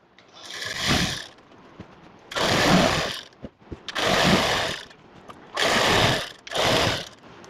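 A sewing machine stitches elastic onto palazzo pants in five bursts of rapid mechanical whirring, each lasting about a second, separated by short pauses with faint clicks.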